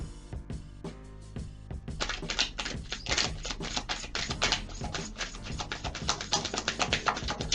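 Tarot cards are shuffled by hand in a rapid, crisp stream of papery flicks and taps, sparse at first and then dense and continuous, close to the microphone with no speech.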